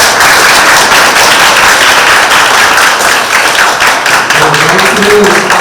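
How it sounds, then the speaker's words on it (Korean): An audience gives loud, continuous applause after a student team's presentation at an Enactus competition, the clapping dense and close, with a few voices surfacing near the end. "포지팀의 발표에 격려와 박수 부탁드리겠습니다"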